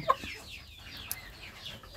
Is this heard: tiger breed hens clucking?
yes